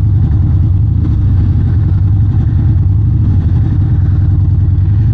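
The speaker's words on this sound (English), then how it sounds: "Yeah, a lot of traffic today." Steady road traffic on a cloudy January day, a constant low engine rumble of passing cars filling the background, loud and close, with no talking.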